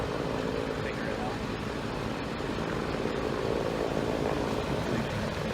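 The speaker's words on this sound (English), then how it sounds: "there's a big old helicopter right now. It's just flying over." Steady low rumbling drone of a big helicopter passing overhead near a plane crash site in Yorba Linda, California, continuous and fairly loud, with faint voices underneath.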